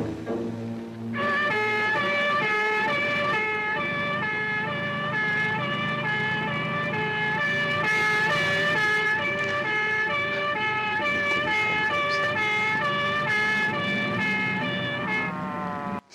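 An ambulance siren on a film soundtrack, a loud, steady two-tone wail that repeats evenly and fills the whole stretch with no talk over it.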